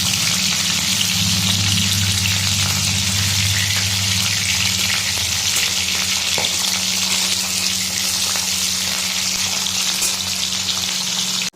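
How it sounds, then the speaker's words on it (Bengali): Hilsa fish sizzles and crackles in hot oil, a loud continuous frying hiss with a low steady hum underneath and no talking. "মাছগুলো সব এখানে ভাজা হয়ে গেছে"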